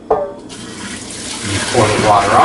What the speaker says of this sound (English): pour the water off.